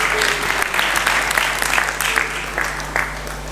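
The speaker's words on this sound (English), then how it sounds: "Once again, a round of applause, ladies and gentlemen." Round of applause from an audience at an electric vehicle handover event, a full, steady burst of crowd clapping with a low hum beneath, continuing throughout.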